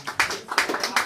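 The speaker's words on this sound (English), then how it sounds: "would you give them a huge round of applause for these guys?" A brief burst of audience applause at a comedy and magic show, a few close, sharp claps in quick succession lasting about a second.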